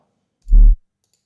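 Noise layer from a bass drop built from a sine wave and noise, one brief, loud, low electronic burst about a quarter second long, isolated in silence.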